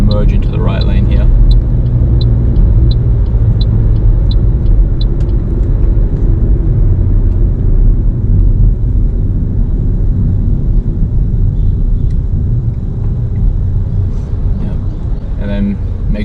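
A car drives steadily along a road and changes into the right lane, its engine and tyre rumble continuous and close, with a person talking over it.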